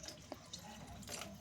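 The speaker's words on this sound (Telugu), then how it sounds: "నేను ఆ మిక్సీ గిన్నెలోనే కొద్దిగా వాటర్ వేసి మళ్ళీ ఇంకొద్దిగా పైనుంచి వేసాను" Water splashes briefly into a mixer jar while soya curry is being prepared, a short, close trickle over steady kitchen background noise.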